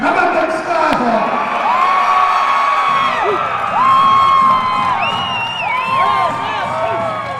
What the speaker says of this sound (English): You'll hear the crowd erupt after this free throw.